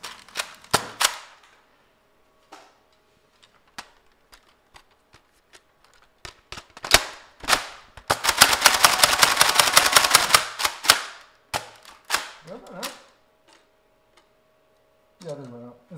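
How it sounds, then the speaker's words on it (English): A Nerf gun in the Roblox game Tower Defense Simulator fires sharp, light clicking shots, scattered at first and then packed into a rapid burst of several seconds before thinning out to a few more snaps. "Cheap ass Nerf gun."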